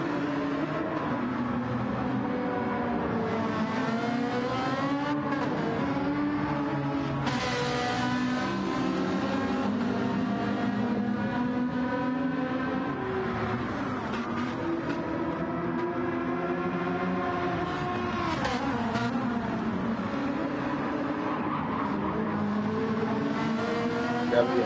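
Several race cars in Gran Turismo brake and power through a turn in close battle, their loud engines howling continuously with shifting pitches and brief bursts of tire squeal.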